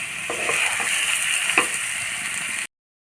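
Egg and potato curry with tomato and spices gets stirred in a pan, a steady close frying sizzle with a few soft scrapes of the spoon, ending abruptly.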